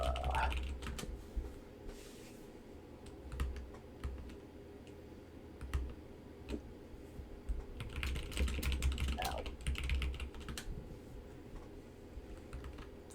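Steady typing on a computer keyboard, a continuous run of soft key clicks at close range with brief pauses and a low background hum, no voices.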